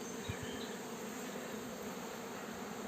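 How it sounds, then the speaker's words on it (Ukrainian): Steady drone of bees humming over an apiary being readied for the linden bloom, a continuous buzzing swarm heard alone at moderate level with a faint breeze and no talking. "Стоїть гул на пасіці, приємний такий."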